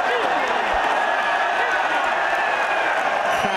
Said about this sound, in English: Crowd going ballistic.